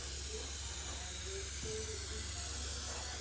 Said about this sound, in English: Spray that in there.